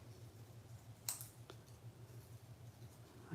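Scissors trimming pieces off a die-cut paper seashell shape, a few faint crisp snips and clicks over a quiet low hum.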